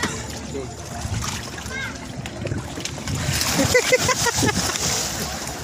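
Water splashes as a person jumps into the sea at Matabungkay beach, Batangas, amid outdoor chatter and children's voices, with sloshing water continuing afterward.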